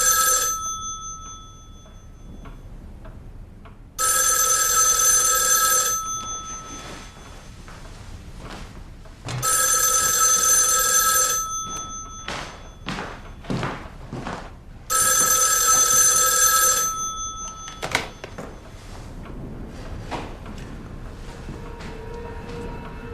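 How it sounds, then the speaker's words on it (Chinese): An old telephone bell rings in three loud, long bursts separated by pauses, with faint shuffling and small knocks between rings in a quiet room, inside a war drama set in Beijing. "你们叶局长电话"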